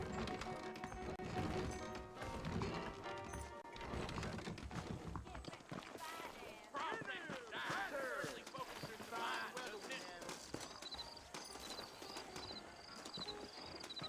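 Horses in the Red Dead Redemption game, saddled and waiting out front in New Ulster, with faint hoof clip-clops sounding under a busy game mix and talk.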